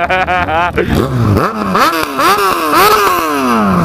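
A Yamaha XJ6 motorcycle engine revs up and down repeatedly, loud and close, its exhaust rising in several surging pulses.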